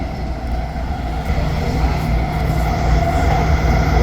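A freight train hauling propane and chlorine tank cars passes near a freight station, giving a steady, loud low rumble with a constant mechanical drone that builds slightly louder midway and holds throughout.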